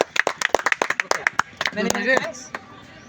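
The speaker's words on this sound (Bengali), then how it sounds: "সবাই আমরা জোরে একটা তালি দিই" A crowd of spectators at a man-of-the-match prize presentation after a match claps in a quick burst of sharp, close claps that thin out, with someone speaking over the end.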